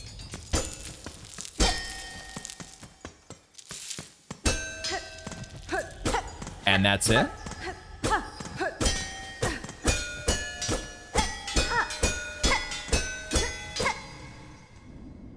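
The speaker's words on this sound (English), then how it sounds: "Just a room with a whole bunch of bells and some rosaries." Struck bells ringing in a room in the game Silksong, a series of bright clanging tones with ringing overtones and repeated hits, some quick runs of strikes, with a brief spoken question partway through.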